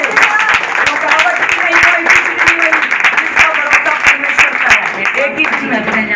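A church congregation at a Sunday blessings meeting claps loudly together, sharp hand claps landing in a quick, fairly regular rhythm over a dense roomy roar of applause that runs the whole time.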